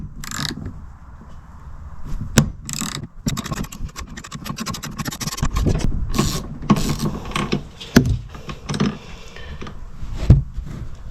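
Socket wrench on a deep socket or extension working an 11/16 shifter bolt loose on a tractor, giving close, busy ratcheting clicks and metallic scrapes throughout with a few sharp knocks.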